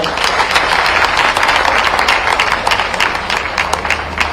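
Students clap loudly during an interaction with the chief minister in Bhopal, a dense, vigorous round of applause from a nearby indoor audience that holds steady throughout.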